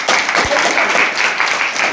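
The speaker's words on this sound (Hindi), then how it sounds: "तालियां।" Brief burst of audience applause at an awareness outreach event in Udhampur, a dense clapping wash filling the short moment after a correct quiz answer, loud and close.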